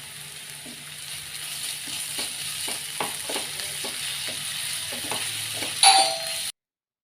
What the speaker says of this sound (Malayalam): ഉപ്പ് ചേർത്ത് വീണ്ടും നല്ലപോലെ ഒന്ന് ഇളക്കി